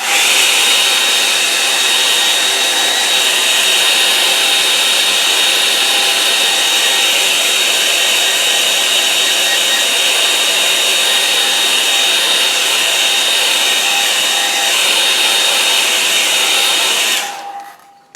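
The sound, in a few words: hair dryer drying watercolour painting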